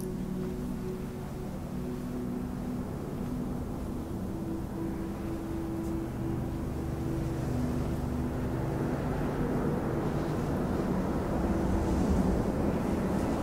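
Steady, low rumbling wind in the video game Journey drones on throughout, growing slightly louder toward the end, with faint sustained tones beneath and no voices.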